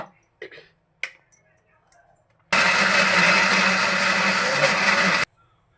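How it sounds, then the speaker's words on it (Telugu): A mixer grinder runs on peanuts and semolina being ground into paste, a loud steady whirring burst of about three seconds preceded by a few light taps and clicks, then stops abruptly. "అది పేస్ట్లా అయ్యే వరకు బొంబాయి రవ్వ వేసుకుంటూ పల్లీలను మిక్సీ పట్టాలి"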